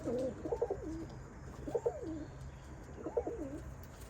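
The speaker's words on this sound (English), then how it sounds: "I had to get out of there because I think I was stressing the pigeons a little too much" Pigeons coo softly in three evenly spaced, rolling phrases over a quiet background hum, outside a farm aviary.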